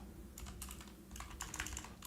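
Close, quiet computer keyboard typing comes in uneven flurries of rapid keystrokes, with a denser burst toward the end and a faint steady hum beneath.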